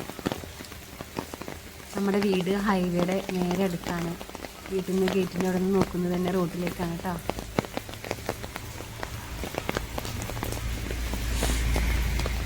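Rain falls steadily on garden plants, a continuous patter with scattered sharper drips, while a person talks over it for several seconds before the rain carries on alone.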